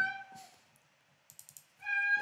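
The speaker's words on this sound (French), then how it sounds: "J'ai mon chat qui miaule." A pet cat meows in a quiet room, two tonal calls at the start and end, with faint computer keyboard typing clicks in between and no talk.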